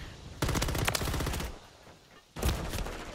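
Automatic gunfire in the multiplayer shooter Call of Duty MW3, two loud rapid bursts with a short quiet gap between them.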